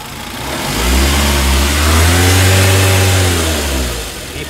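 A 2011 Toyota Avanza S engine with a fault and a rough sound, its mount bolt missing and fitted crooked, runs steadily up close, swelling slightly in the middle with a deep, continuous drone and no voices.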